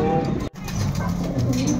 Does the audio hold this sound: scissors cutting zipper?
no